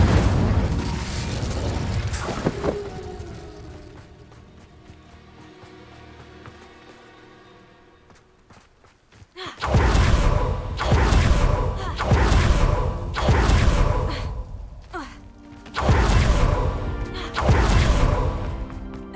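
Bombarda and Incendio spells cast in the Hogwarts Legacy video game: a quieter stretch of muffled rumbling and clanking, then a run of loud, booming blasts coming in quick repeated bursts near at hand.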